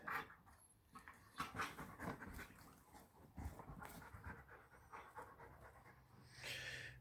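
Dogs pant steadily on a bed, with soft whimpers mixed into the close, rapid breathing that keeps going almost without a break.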